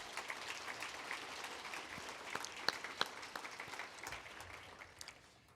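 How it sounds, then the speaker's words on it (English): Applause from an audience at a morning business breakfast forum thanking sponsors: a steady, distant patter of many hands, faint throughout and fading at the end. "Let's have another round of applause for all of our generous sponsors."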